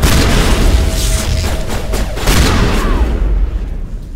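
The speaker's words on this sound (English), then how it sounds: "Let's use this shotgun." Shotgun fire in the video game Mass Effect, a series of loud, close booming blasts in quick succession over dense combat noise, with hardly any speech.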